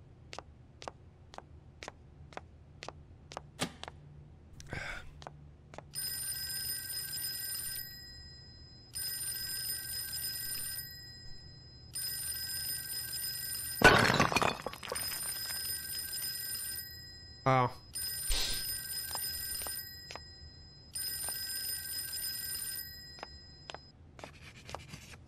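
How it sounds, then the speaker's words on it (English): Telephone in the video game Fork Road rings in a series of about seven evenly spaced electronic bursts, fairly loud and clear over a low background hum, with a few clicks and a brief thud between rings. "how many times did the phone ring?"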